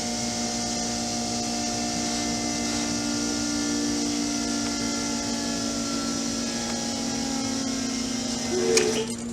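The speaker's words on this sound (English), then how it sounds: "Fuel pump just kicked on." An electric fuel pump on a Holley EFI setup in a turbocharged Malibu whines steadily and evenly at close range for several seconds. A brief clatter comes near the end, with no talking.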